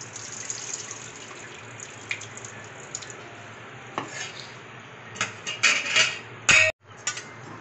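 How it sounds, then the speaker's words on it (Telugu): Sago pearls (sabudana) being rinsed and strained with water in a kitchen, soft swishing and stirring with occasional clinks of a metal vessel, building to a few louder sloshes and clatters near the end. "ముందు ఇలా వాటర్తో సగ్గుబియ్యాన్ని ఒకసారి స్ట్రైన్ చేసేసుకోవాలండి."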